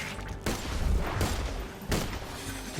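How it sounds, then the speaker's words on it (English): Sniper rifle fire in the video game Borderlands: three heavy, booming shots spaced about three-quarters of a second apart, each with a rumbling tail over a steady, busy game background. "Man, I fucking love this sniper rifle, it's so fucking powerful."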